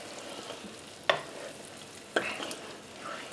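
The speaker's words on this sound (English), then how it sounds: "And then we're going to stir that a little bit." Cream being stirred into sizzling chicken tikka masala in a pan, with a soft steady sizzle and two sharp clinks of a utensil against the pan, faint and close, with no voices.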